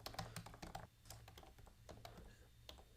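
Keystrokes on a computer keyboard while a web domain name is entered, a quick irregular run of close, light clicks and taps with no voice over them.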